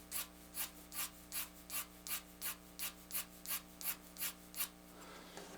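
Rhythmic 2B graphite pencil strokes shading hair on paper, about a dozen short scratchy tapered pulls at a steady pace, close and quiet with no talking.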